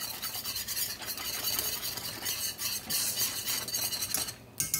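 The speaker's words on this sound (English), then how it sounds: "I'm just giving this a whisk" Whisk scraping and rattling in a pan of gravy thickened with flour, a steady run of close, gritty stirring strokes without any talking.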